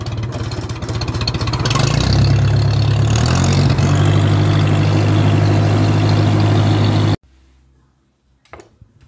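A vintage pulling tractor's engine idles loudly in third gear, a heavy, throbbing low drone that rises in pitch and intensity partway through, then cuts off abruptly, leaving a few quiet knocks.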